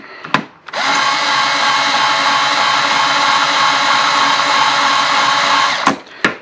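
Powered case trimmer cutting brass cartridge cases for .45 Schofield, a loud close motor whine that starts up, runs steadily for about five seconds and then stops, with clicks before and after.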